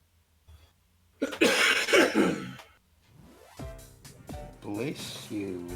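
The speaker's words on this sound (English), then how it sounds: "That was a cough" A single loud cough bursts out close to the mic during a Mario Kart speedrun session, followed by other voices.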